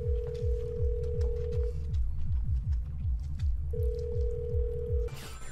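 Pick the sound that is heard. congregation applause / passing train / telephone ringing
telephone ringing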